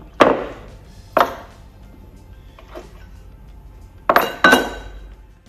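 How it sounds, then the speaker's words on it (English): A pin is pulled and a clamp is removed from an HDPE pipe butt welder, giving a handful of sharp metallic clanks and clinks, two early and a quick pair near the end, close and otherwise quiet. "Pull this pin out and we can remove our clamp like so."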